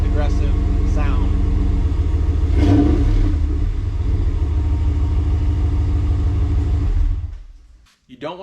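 A modified truck exhaust rumbles deep and loud, climbing through a couple of revs before settling to a steady idle, then cutting out abruptly near the end.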